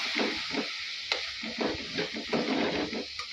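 Mutton frying in a pan while chili powder is mixed in, giving a continuous soft sizzle with rhythmic scraping stirs every half second or so, fairly quiet and with no talking.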